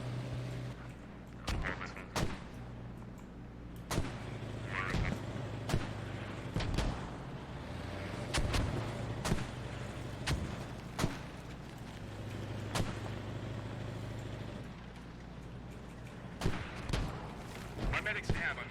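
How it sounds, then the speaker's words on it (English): Mortar fire in a competitive tactical shooter match, repeated sharp bursts and booming impacts scattered across the clip, some near and loud, others more distant, over a constant battlefield rumble. "it sounds like SPiT also has mortars up"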